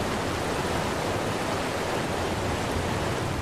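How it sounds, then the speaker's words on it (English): A waterfall in the ARK: Survival Evolved video game gives a dense, even roar of rushing water, steady and loud throughout with no pauses. "Is there a tunnel up under this waterfall?"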